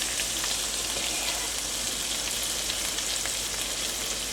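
Bolognese mince frying in a pan, browning without sauce: a steady, dense sizzle with crackling spits, close and continuous throughout.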